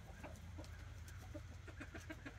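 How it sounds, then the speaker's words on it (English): Backyard hens, among them a gray-and-red one, cluck in short repeated bursts close by over a steady low background hum. "She is one of my more distinct chickens."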